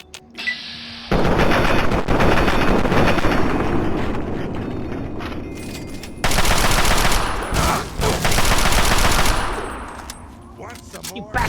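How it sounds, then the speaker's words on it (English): Automatic gunfire from the video game Fallout 3: loud, sustained bursts of rapid shots that fill most of the clip, with a brief lull midway before another dense volley, then tapering off near the end. "Hey, what are you guys shooting?"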